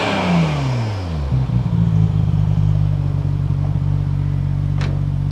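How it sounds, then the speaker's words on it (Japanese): A Nissan RB26DETT engine breathes through a rare Reimax stainless muffler, revving sharply up and then dropping back. It settles into a loud, steady, deep exhaust drone close by, with no talking. "はい、じゃあマフラー音いきますよ。"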